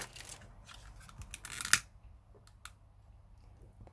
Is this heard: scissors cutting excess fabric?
yes